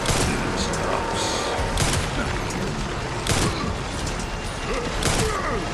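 Several sharp gunshots from a firearm in Resident Evil Requiem crack out at irregular intervals over a constant bed of loud game noise and rumble.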